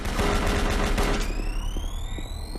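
Rapid gunfire from Doom 3 played in VR, a dense burst of loud shots filling the first second, then trailing off into sweeping synthetic tones and scattered thuds.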